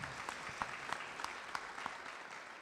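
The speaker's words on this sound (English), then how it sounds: "Please give her another round of applause" Audience applause at an engagement ceremony, a steady patter of many hands with a few sharper individual claps standing out, fairly distant and moderately quiet, with no talk over it.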